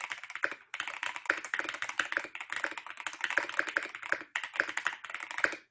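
Rapid clacky keystrokes on a Razer BlackWidow V4 mechanical keyboard, steady typing bursts with brief pauses, close and clear with no talking.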